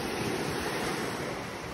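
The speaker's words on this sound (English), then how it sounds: "Oh, this is nice, nice waves." Surf washing steadily onto the sand at Hutchinson Island, a continuous broadband roar with some wind noise on the microphone, close and fairly loud, with no voices over it.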